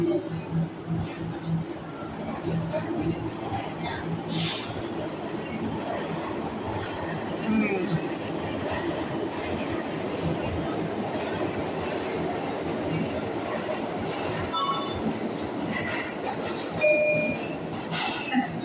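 A subway train with mechanical issues rumbles steadily along the rails with rattling wheels and occasional metallic squeals, continuous and fairly loud throughout.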